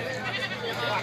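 Dairy goats bleat at a goat market in Jataúba, a short wavering call amid dense crowd chatter and talking nearby.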